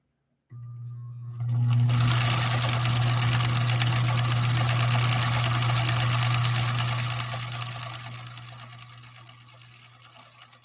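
A sewing machine runs a stitch on cotton with a steady, close mechanical whir and hum. It starts abruptly, holds for several seconds and then gradually fades.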